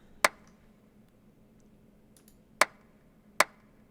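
Three sharp, crisp clap-sample hits in a lofi hip hop beat ring out alone, the first one followed by a long pause and then two more in quick succession.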